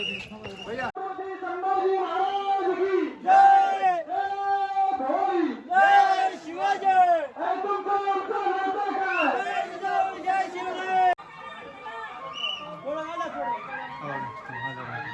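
A large crowd at the Shivrajyabhishek celebration at Raigad fort, voices chanting and shouting in long sustained rallying calls, loud and close with overlapping singing tones, fading into a softer babble at the end.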